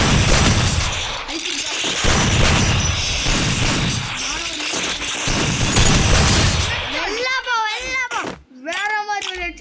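Rapid gunfire bursts from a first-person shooter game with headshots, loud repeated shots in rhythmic clusters, with a voice speaking over the end.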